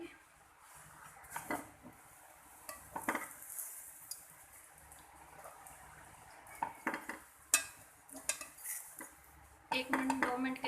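A chicken tikka pizza cooks on its second side in a pan without an oven, heard as repeated clattering of a utensil against the pan and metal clinks over a faint low sizzle, with loud scraping bursts near the end.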